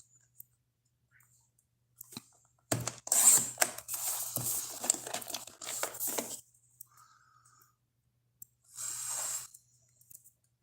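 A paper trimmer slices cardstock down to size in a few close, crisp cutting strokes with clicking and scraping, followed after a pause by one more short cutting burst.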